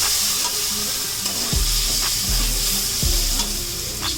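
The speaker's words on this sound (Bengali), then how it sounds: "আলু ওলকপি ভাজাটি আমরা দিয়ে দিচ্ছি এর মধ্যে" Fried potato and kohlrabi pieces are tipped into a fish curry and stirred in the pan, with steady sizzling throughout and a few louder scraping stirs of the spoon, close and loud.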